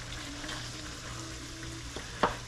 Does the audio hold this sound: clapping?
no